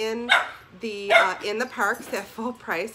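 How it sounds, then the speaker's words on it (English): Dogs bark indoors in several short, sharp yips scattered through the clip, mixed with a person talking over them. "I apologize for the dogs as they're barking"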